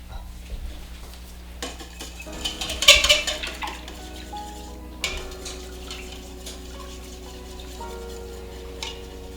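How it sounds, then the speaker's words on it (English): Garlic, salt and pepper are whisked into a Southern mac and cheese, with metal scraping and clinking against a pot, a brief louder clatter, then lighter intermittent stirring. "go ahead and add in a teaspoon garlic and teaspoon salt and pepper. And whisk it real good."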